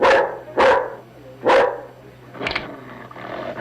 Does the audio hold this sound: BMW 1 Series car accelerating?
no